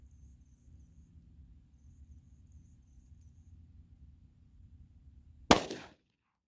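A single sharp gunshot from a .45 ACP pistol firing a Speer Gold Dot 200 grain +P round cracks loud and alone near the end, after several seconds of quiet low hum.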